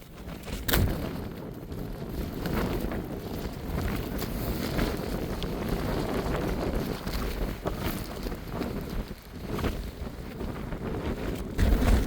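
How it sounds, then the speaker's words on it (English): Strong wind gusting over a snowy hill, a steady roaring buffet against the microphone with brief louder blasts, no voices. "I'm still getting battered with wind"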